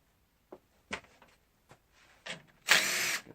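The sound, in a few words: power tool gun with 10 mm socket removing bolt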